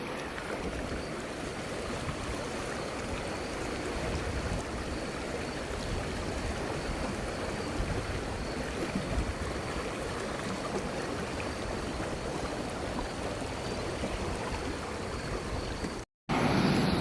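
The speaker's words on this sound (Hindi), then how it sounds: "खतरनाक पानी का फ्लो।" Fast, dangerous water rushing through a dam gate, a steady broadband roar like a stream or waterfall that fills the whole stretch at close range, with a brief dropout near the end.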